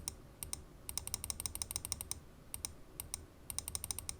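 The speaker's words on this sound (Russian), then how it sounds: "Мышь ранее звучала следующим образом." Quick, light clicks from a modified Logitech G Pro X Superlight mouse come in irregular bursts with short pauses between them, close up and fairly quiet, with no voices.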